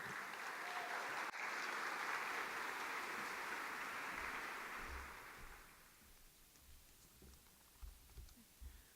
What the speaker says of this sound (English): I think another round of applause for our great Lieutenant Governor, Kathy Hochul, is in order.